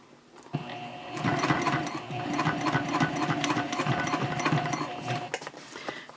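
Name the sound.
sewing machine basting a handbag flap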